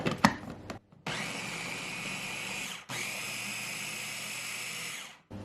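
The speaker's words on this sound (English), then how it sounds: "we're just gonna add the lid and mix all this up" A stand mixer whirs loudly and steadily through keto cheesecake batter, running in two long bursts separated by a brief pause, with a few clunks of the lid and bowl before it starts.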